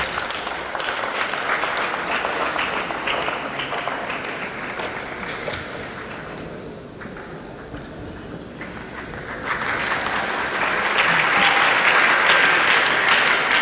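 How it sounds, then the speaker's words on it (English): A large crowd at a tech community conference applauds a speaker stepping forward, loud sustained clapping that dips briefly in the middle and then swells again, with cheering mixed in. "A round of applause for Mercy as she steps forward."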